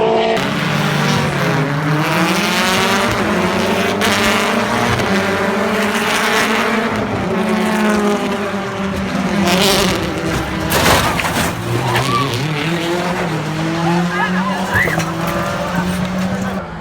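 Race cars on a circuit scream past with loud engine drone and shifting revs, tires squealing as one car slides off the track, close and continuous under a commentator's excited talk.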